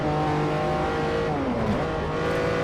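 A Lamborghini engine in the racing game Forza 4 drones continuously at a steady high volume, with its pitch dipping and shifting partway through as the revs change, and no voices over it.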